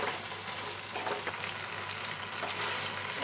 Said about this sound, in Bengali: নাড়তে হবে, নাহলে কর্নফ্লাওয়ারটা আবার ডেলা হয়ে যাবে।